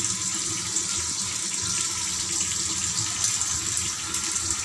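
Goat brains rinsed under running tap water while being cleaned for brain fry; a loud, steady gush of water splashes continuously into a sink, with no voices.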